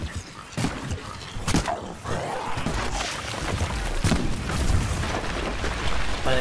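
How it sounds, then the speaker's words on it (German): Repeated booming explosions from the video game Plants vs Zombies, with several sharp bursts and rumbling blasts over dense, continuous game noise. "Alter, alle explodiert"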